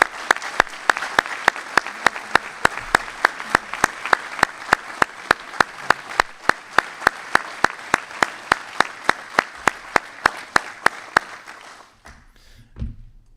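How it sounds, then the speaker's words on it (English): Audience applause at an Army ROTC commissioning ceremony, a steady crowd of clapping hands with some sharp, regular claps standing out, running strong for about eleven seconds before fading into quieter room noise. "can we give a round of applause for Colonel Beaver"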